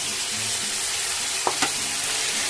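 Ground mustard and ginger paste sizzles in a frying pan while a bitter-gourd dish is cooked, a steady close hiss throughout with two brief spoon scrapes in the middle.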